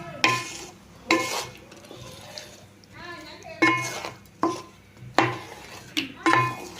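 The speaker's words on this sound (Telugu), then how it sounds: "ఇప్పుడు కలుపు ఒకసారి మంచిగా హై ఫ్లేమ్లో" Biryani masala stirred in a pot over high flame, with repeated loud scraping strokes of a spoon against the metal and a faint sizzle between them.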